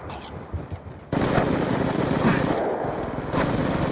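Rapid automatic gunfire in a shooter video game, loud and sustained, steady bursts growing heavier after the first second and continuing to the end.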